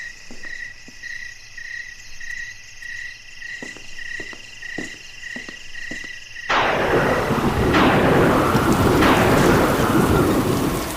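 Crickets chirp in a quiet night, then heavy rain abruptly bursts in and pours loudly, with rumbling thunder beneath.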